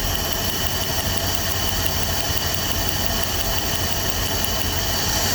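A Dodge W300 Club Cab engine runs steadily during a spark check on cylinder 1 with a misfire present, giving a continuous loud idle with rough low rumble and a faint high whine, no talking.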